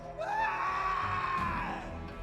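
A long, loud scream rises and holds in one sustained cry, ringing out over a low clamor during a night attack in the video game Pathfinder: Kingmaker.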